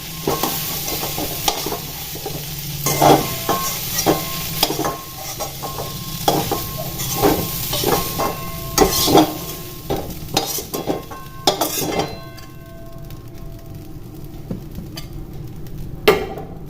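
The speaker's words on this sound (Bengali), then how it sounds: "দেখুন ফুলকপিগুলো আমার লাল করে ভাজা হয়ে গেছে" Cauliflower fries in oil in a kadai and is stirred, giving a loud, close sizzle with repeated spatula scrapes and clinks in an uneven rhythm. The sizzle fades over the last few seconds.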